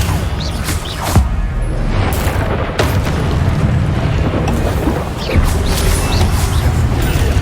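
Spell blasts and explosions burst during a Hogwarts Legacy boss fight against the Pensieve Guardian, a loud dense barrage of booms and crashes with repeated sharp impacts over continuous game rumble.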